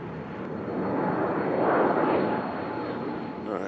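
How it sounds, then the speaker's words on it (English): A fixed-wing airliner bound for DFW passes overhead near Nashville International Airport, its broad engine roar swelling to a peak mid-pass and then easing off, loud and continuous. "This is a plane going to DFW."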